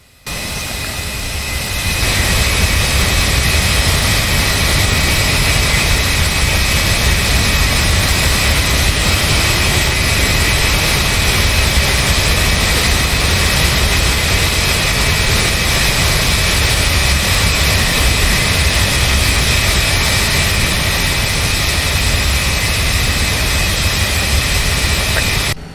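Embraer E170 jet engine starting up in the X-Plane 11 flight simulator, a loud steady roar and whine that builds quickly and then holds continuously to the end, with no voices over it.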